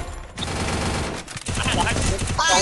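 Rapid bursts of Counter-Strike gunfire rattle in dense volleys, loud and close, with a brief pause midway and a player's voice faintly mixed in.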